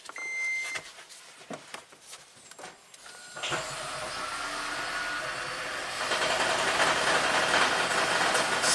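A Toyota Prius engine with a repaired head gasket starts up after some clicks and beeps, then idles steadily with a light rattle, growing slightly louder toward the end.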